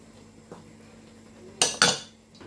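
Spoon clinking against a pot while stirring madesu beans with seasoning, two sharp metallic knocks near the end after a quiet, faint stretch.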